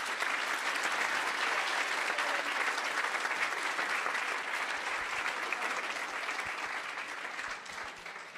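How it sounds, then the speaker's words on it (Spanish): Warm audience applause for a journalist at a talk on chronicle writing, a sustained even roar of many hands clapping, fading slightly at the end. "Les pido a todos un aplauso cariñoso para la maestra Leila Guerrero"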